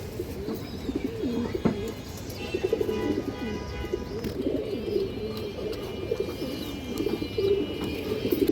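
Single male pigeon cooing softly in a home loft, steady low murmuring coos repeating through the stretch with faint chirps from other birds around it.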